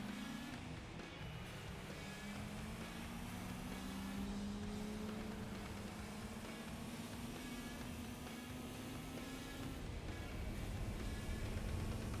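A race car engine in Gran Turismo 4 at Fuji drones at high revs, with its pitch slowly rising through a long pull, steady and fairly faint, with no talk.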